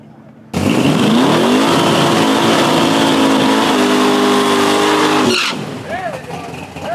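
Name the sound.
drag race car accelerating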